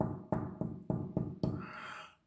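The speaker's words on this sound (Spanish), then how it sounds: "Y entonces van a llegar los niños y van a tocar la puerta." Five firm knocks land on a door in a slow, even rhythm, close and fairly loud, with a short scraping rustle at the end and no talking.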